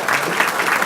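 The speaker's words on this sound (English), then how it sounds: "Have a round of applause." A dense wash of applause fills a city council meeting chamber right after the color guard is dismissed, loud and continuous for a brief moment.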